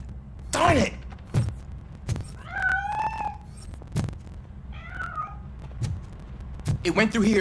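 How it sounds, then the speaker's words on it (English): A cat in RoboCop: Rogue City meows several times in drawn-out cries mixed with thumps and clatter as it escapes, moderately close amid game sounds. "That cat must be hiding inside."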